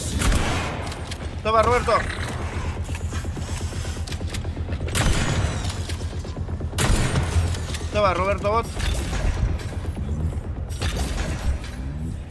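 Bursts of gunfire and booms in the video game Atomic Heart crackle in rapid volleys, with voices speaking between and over the shots.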